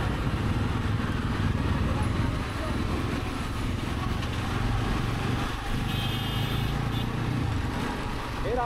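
A motorcycle carrying a passenger rides along a congested road, its engine hum and road noise steady and continuous throughout, with a person talking over it.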